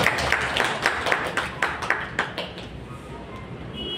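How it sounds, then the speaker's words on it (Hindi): Audience applause for a speaker at a teachers' training program, a scattered round of claps that starts fairly strong and thins out over a few seconds, with a faint murmur of voices beneath. "इनके लिए जोरदार जरा ताली हो जाएगा।"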